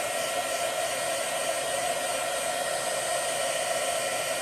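A heat tool blows steadily and alone at close range, warming a WoodUbend moulding so it will bend onto a decoupage candle, with an even, constant whoosh throughout.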